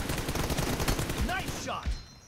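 Rapid automatic gunfire in PUBG Mobile, a close team deathmatch fight, rattling in quick bursts under a voice calling out.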